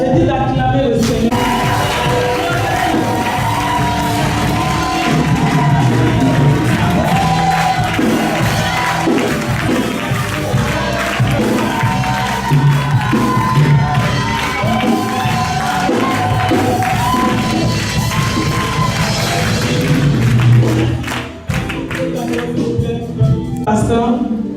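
A church congregation cheers and shouts in acclamation to the Lord, a dense, loud crowd roar with whoops and cries that holds steady for a long stretch before briefly dipping near the end.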